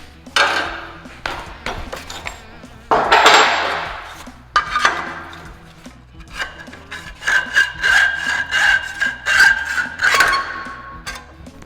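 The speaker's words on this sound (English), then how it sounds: "So I'm gonna finish it with a hacksaw." A hacksaw cuts through rectangular steel tube in bursts of rasping back-and-forth strokes, near and loud, with short pauses between runs and a faster rhythmic stretch of strokes toward the end.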